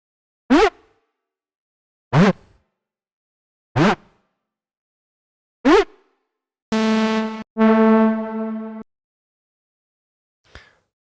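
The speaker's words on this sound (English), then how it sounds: "a more effect sounding lead, which you can use to introduce a unique sound" An effect-style lead synth from an Afro house track plays four short, sharp plucked blips spaced evenly, then two sustained bright buzzy tones, ending with a faint final blip, loud and isolated.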